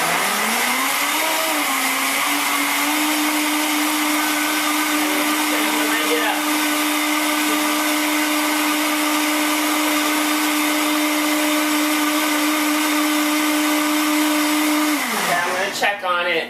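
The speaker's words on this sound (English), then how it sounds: "So I'm going to turn on the Vitamix." Vitamix blender blending coconut milk from two ingredients runs as a loud, steady motor whir that ramps up at the start, holds for a long stretch, then winds down and stops near the end.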